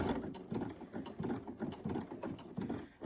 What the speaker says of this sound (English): Sew all the way to the corner, but stop about 1/4 inch away from the edge